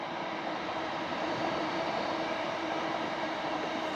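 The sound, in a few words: passing train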